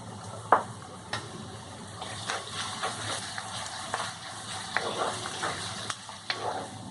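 Onion and garlic, then cumin, fry over a medium flame in a pan, a soft steady sizzle punctuated by occasional stirring clinks and scrapes at close range.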